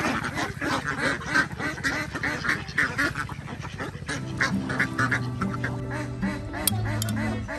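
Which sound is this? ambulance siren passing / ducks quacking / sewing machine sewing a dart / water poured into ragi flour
ducks quacking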